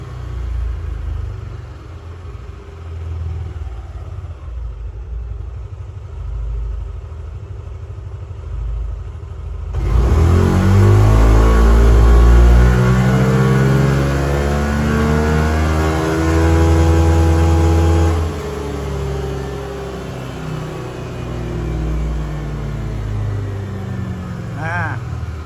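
A vehicle engine on a DynoTek dynamometer revs up from standstill, a loud rising rumble with climbing harmonics that holds for several seconds and then eases back to a steady idle drone.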